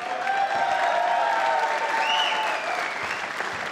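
A squash crowd at the Optasia Championships 2024 applauds during a Farag versus Gawad match, producing dense, even clapping that holds steady for the full few seconds, with a faint whistle or cheer mixed in.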